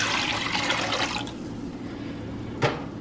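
Two cups of water pour steadily into a container as brine for pickling banana peppers with garlic, a close splashing rush lasting about a second, followed by quieter settling and one brief knock near the end.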